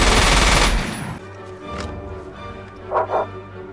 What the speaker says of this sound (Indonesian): Mendengar suara tembakan yang memberedel dari lokasi Tsukasa berada